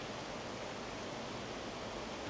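A river rushes loudly and steadily through woodland near an old gunpowder factory at Kennall Vale, a constant broadband roar close by with no breaks or voices.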